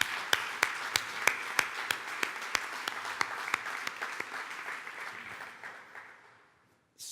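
Audience applause at a talk on curriculum flexibility and national exams, broad clapping with a few sharp individual claps standing out near the front, gradually thinning and fading almost to silence.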